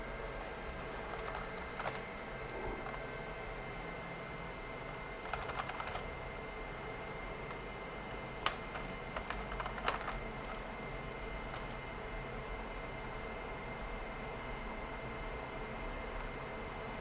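Quiet, scattered keystrokes on a computer keyboard in a room with a constant background hiss, with occasional small clusters of taps and no speech.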